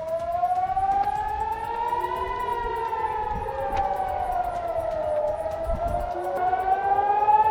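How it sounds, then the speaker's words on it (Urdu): Emergency air raid sirens wail in long, slow rising and falling tones, loud and sustained across the whole stretch, with a few faint background knocks and no speech. "ایمرجنسی سائرنز گونجنے لگے اور عوام سے کہا گیا کہ وہ فوری طور پر پناہ گاہوں میں چلے جائیں"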